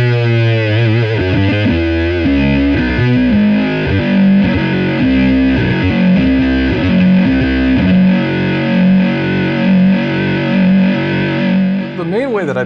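Electric guitar played through a pair of MXR distortion pedals, a loud, continuous crunchy riff with sustained chords and melodic lines running throughout, ending with a brief upward slide.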